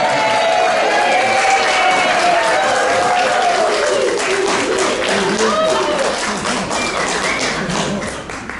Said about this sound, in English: I dream to have an applause like that someday